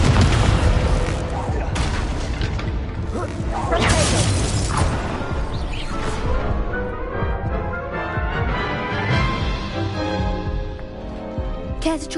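Incendio fire spell cast in the video game Hogwarts Legacy, a loud burst of crackling, booming magical effects that rolls on for several seconds, with a dense rumbling low end and fading shimmer.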